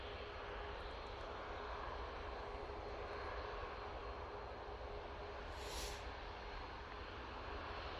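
Airplane taking off at Manchester Airport, a steady broadband jet roar heard from a distance, fairly faint and constant throughout with no talk.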